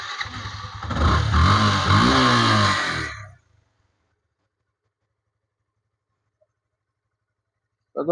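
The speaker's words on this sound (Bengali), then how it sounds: "বাইকটি আমি একটি স্টার দিয়ে সাউন্ড কোয়ালিটি শোনার চেষ্টা করব" A Yamaha FZS version 2 motorcycle starts and idles loudly close by for about three seconds before the engine cuts off, leaving silence.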